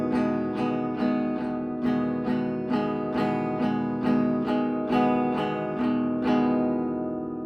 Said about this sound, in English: She's strumming with her thumb on the strings, just kind of using the side of her thumb.